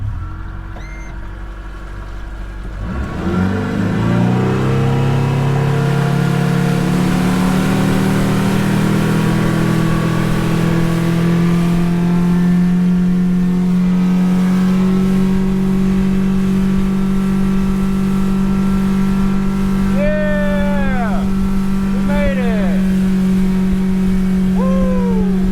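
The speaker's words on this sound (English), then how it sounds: "once we get on plane I'll trim up" An outboard motor on a fishing boat revs up and accelerates onto plane, rising from a low idle to a loud, sustained drone with a few pitch swoops near the end, close and with no speech.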